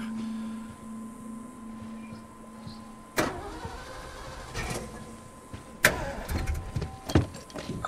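A car with a dead battery in the video game The Last of Us Remastered tries to start, a low hum broken by several sharp clunks and sputtering bursts with no voices.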